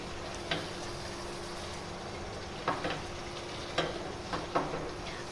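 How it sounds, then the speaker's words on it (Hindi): A spoon stirs okra frying in a pan for a bhindi chicken curry, giving a few soft scraping knocks at uneven intervals over a faint continuous sizzle. "बस थोड़ा सा 2-4 दफ़ा मैं स्पून चला लूँ इसका"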